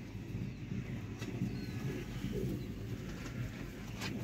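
Pigeons in a loft coo with low, throaty murmurs that repeat under steady background noise, moderately close but soft, with no talk.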